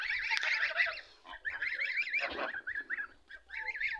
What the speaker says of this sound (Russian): Вон, утки, смотрите. Все скучковались.